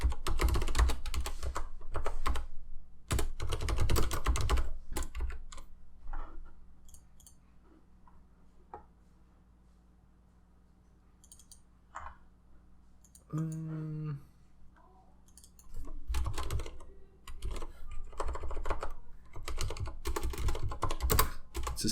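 Fast bursts of computer keyboard typing while writing Java code, clattering keystrokes in dense runs, then a quieter pause with a brief tonal blip, before typing resumes loudly and close.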